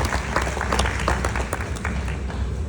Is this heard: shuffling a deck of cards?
no